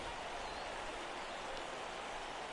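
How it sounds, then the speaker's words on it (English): Steady rain hisses in the RTTS baseball video game, an even, unbroken wash of noise for the whole stretch with no talk over it. "And it's raining."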